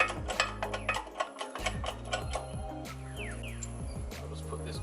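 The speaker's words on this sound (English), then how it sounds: "I'm just going to get my little jack underneath here. And I'm just going to jack this up till this bolt hole lines up." A small jack is pumped to raise the suspension of an Isuzu MU-X during a lift kit install, giving quiet, steady mechanical ticking and ratcheting clicks close by.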